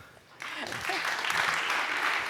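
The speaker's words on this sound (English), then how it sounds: "So big applause" Audience applause at the JupyterCon 2023 lightning talks breaks out after a brief spoken line and builds into dense, steady clapping that continues to the end.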